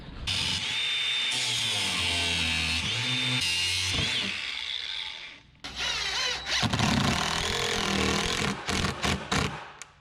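Power tools whine and grind close by as nails and screws are pulled from wood, with a sustained run, a brief pause, then choppy bursts of buzzing and clatter.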